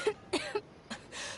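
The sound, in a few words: coughing, video game character in Genshin Impact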